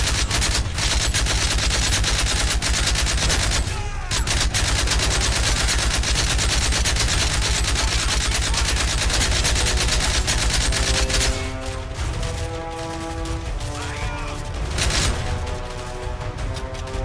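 Powerful gun firing in Call of Duty Mobile, a loud continuous stream of shots for most of the stretch, then a pause with harmonic game sounds before a last burst.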